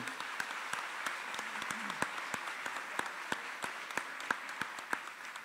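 An audience at a peace agreement seminar applauds four panelists, with steady, moderately faint clapping from a small crowd continuing throughout, with individual sharp claps standing out.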